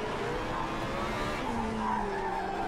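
A Formula B race car at Interlagos in Project CARS 3 understeers, its tires squealing and skidding in a steady, loud scrub with the engine droning underneath and no break.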